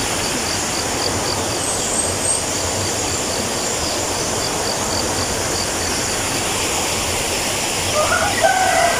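Farm chickens in a free-ranging flock, a steady noisy outdoor bed of clucking and insect-like chirring with a faint rooster crow rising near the end, no talk.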